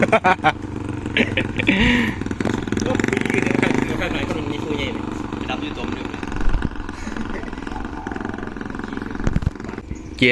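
A Honda Wave 125 four-valve motorcycle rides along in a single gear, its engine droning steadily and loudly close by while someone talks over it throughout.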